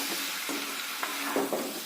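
Pigeon meat and masala fry with a splash of water in a pan, a close, loud and steady hiss of sizzling with a few faint stirring clicks and no voices.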